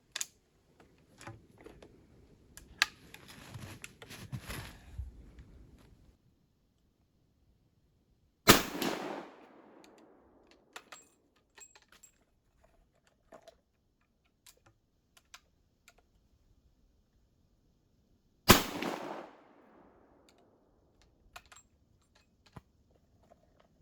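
A Snider-Enfield Mk. III short rifle fires twice, about ten seconds apart. Each sharp blast is followed by a short decaying echo, with quiet clicks and handling noises in between.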